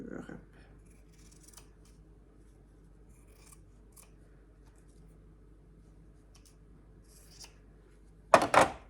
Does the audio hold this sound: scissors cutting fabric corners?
yes